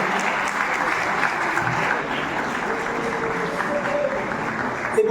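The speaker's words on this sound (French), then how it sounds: "on peut les applaudir" Audience applause for trainers at a festival closing ceremony for animation films and games, steady and sustained throughout, with faint voices and a few tonal sounds beneath it.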